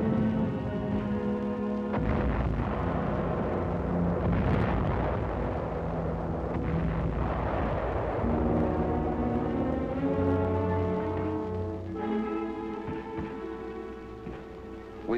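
An ammunition dump hit by Japanese mortars explodes in a rolling series of deep booms and crackling blasts that carry on loud for the whole stretch, with no talking.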